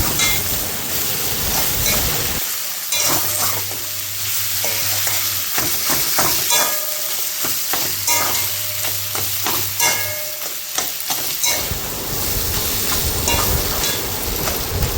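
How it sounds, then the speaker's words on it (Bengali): Taro flowers being fried and stirred in a pan make a continuous loud sizzle, with repeated scraping strokes of a spatula across the pan and no talking. "ভেজে ভেজে অনেকই কম হয়ে যাবে কচুর ফুলটা।"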